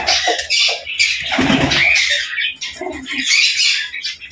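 Pigeons in a loft squawk and chirp busily up close, with rustling bursts of wings flapping in the confined space; no talking.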